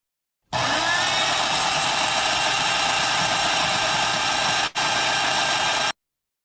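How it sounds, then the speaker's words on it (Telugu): A home mixer grinder runs with a steady, loud motor whine and buzz, cutting out for an instant before resuming and then stopping abruptly. "లేకపోతే ఇంట్లో గ్రైండర్స్."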